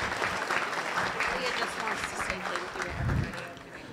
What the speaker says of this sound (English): Big round of applause for Father of the Bride, Scott Manco.